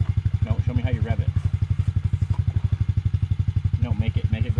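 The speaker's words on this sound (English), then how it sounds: "No, make it go loud. That's revving." Small Yamaha TTR50 dirt bike engine running close by with a rapid, steady low putter and a few brief throttle rises, under a child's and an adult's talk.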